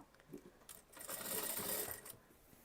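A sewing machine stitches an Anarkali yoke kurti, a soft start building into a steady, close whirring run of about a second before slowing to a stop, with no talking.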